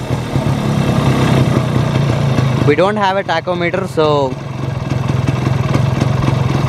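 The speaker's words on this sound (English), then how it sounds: "So this is the idling. Yeah, this is the tune for my RX 135." A Yamaha RX 135 two-stroke motorcycle engine idles close by with a steady mid-pitched drone while someone talks briefly over it partway through.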